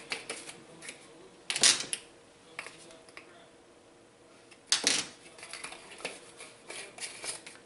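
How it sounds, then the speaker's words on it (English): Metal measuring teaspoons clink and tap as garlic powder is scooped, a few sharp close knocks separated by quiet pauses. "I'm going to get a 1/2 teaspoon of garlic powder."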